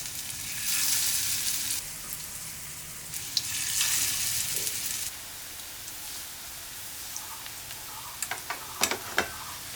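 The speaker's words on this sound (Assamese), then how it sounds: "তেলখিনি গৰম হোৱাৰ পিছত আপুনি এই পকৰিবিলাক ফ্ৰাই কৰি গ'লেই হ'ল।" Moringa leaf and rice powder fritters fry in hot oil, giving a loud sizzling hiss that comes in waves and then fades, with a few sharp clinks and pops near the end.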